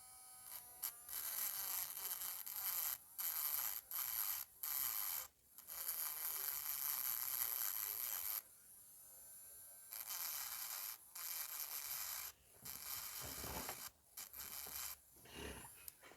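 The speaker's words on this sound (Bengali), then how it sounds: "প্রথমে আমরা এই নাট দুটোকে ঘষে ঘষে নিই" Two metal nuts rubbed against each other before soldering, a harsh rasping that comes in repeated short bursts and longer strokes with brief pauses, fairly close, no talking.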